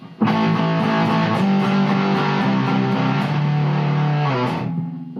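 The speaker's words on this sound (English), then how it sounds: "Let's kick up the distortion." An electric guitar played through a modded Boss DS-1 distortion pedal with the gain raised rings out in thick, sustained distorted chords that hold for several seconds before cutting off abruptly near the end.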